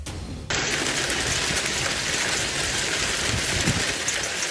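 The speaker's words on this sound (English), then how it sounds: "That's heavy hail coming down tonight in Wright City." Heavy hail pounds down during a night thunderstorm in Wright City, Missouri. A dense, constant roar of ice striking surfaces starts abruptly after a brief pause and holds steady and loud.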